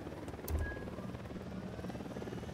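Patrol helicopter circling overhead in the video game Ghost Recon Wildlands, a steady rotor drone at moderate distance that continues throughout, with a brief louder thump early on.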